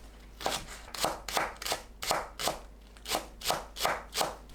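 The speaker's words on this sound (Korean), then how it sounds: "파를 썰어주세요." A knife chops green onions on a cutting board in a steady rhythm of about eleven crisp, close taps with brief gaps between strokes, and no voices.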